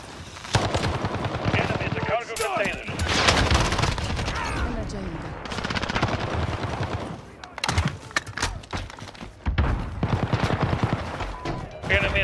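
Rapid video-game gunfire around a junkyard with cargo containers, bursts of automatic shots and loud reports throughout, with game voices calling out over the shooting.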